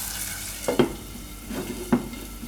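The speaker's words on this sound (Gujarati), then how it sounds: "ડુંગળીને થોડીક વાર પાકવા દેવું આપણે તેલમાં જ" Onion cooking in hot oil in a pan, a soft steady sizzle with a few sharp stirring clinks from a utensil, close and alone.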